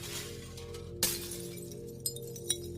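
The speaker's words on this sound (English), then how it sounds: "suddenly you hear glass shattering all around you" Glass shatters in a horror tabletop role-playing session: a sharp, loud crash breaks over a steady background hum, followed by two smaller tinkling hits as pieces fall.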